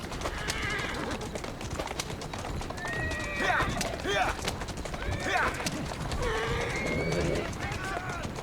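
Horse in the Assassin's Creed Syndicate video game, with steady clip-clop hooves throughout and several whinnies and neighs in the middle, set against busy ambience with birds and a voice talking over it.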